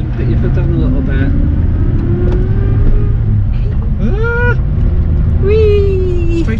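A Rover P4 saloon accelerating in second gear on a country road, its engine a steady low drone under the cabin noise while passengers talk and one makes a rising, whooping vocal sweep.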